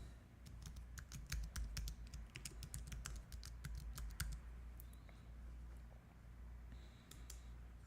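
Computer keyboard typing a name and email into an online form, a quick run of light, close key clicks that thins out toward the end, with no talk.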